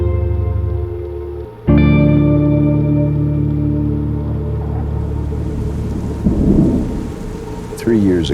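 Dramatized thunderstorm with heavy rain, a dense rain hiss under sustained tonal drone and rumbling thunder that swells midway, with a sudden loud onset and shifting layered effects.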